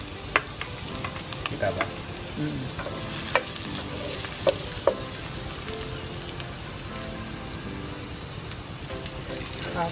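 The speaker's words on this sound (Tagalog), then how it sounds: "Yan, so magigisa na tayo ng bawang. Ang daming bawang." Plenty of garlic sizzling as it sautés in a pan for Filipino chicken kaldereta, a steady crackling fry under stirring clatter, with brief speech near the start.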